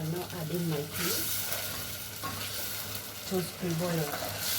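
Peas stir-frying in a pan with rice, carrots and salt, giving a steady loud sizzle with scraping stir noises throughout; a voice murmurs faintly in the background.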